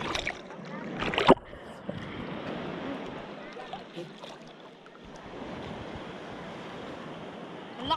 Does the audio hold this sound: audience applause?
no